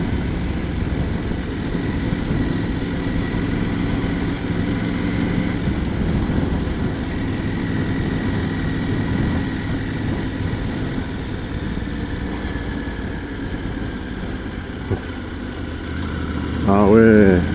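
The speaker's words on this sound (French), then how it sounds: "je vais changer de vitesse avec l'embrayage." Triumph Tiger 900 GT Pro motorcycle engine running steadily while riding, with gear changes using the clutch, a continuous close engine drone under a rider talking in French.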